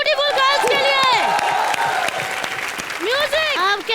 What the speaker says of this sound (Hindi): एक बार जोरदार तालियां ब्यूटीफुल गर्ल्स के लिए